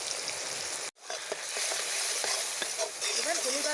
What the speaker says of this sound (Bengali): এবার হলুদ আর লঙ্কা গুঁড়োটা খুব ভালো করে ভেজে নেব